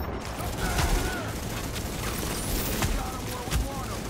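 Enemy gunfire in the shooter game The Division crackles as a dense, continuous wash of rapid shots with a few louder bursts, sitting under a player's voice.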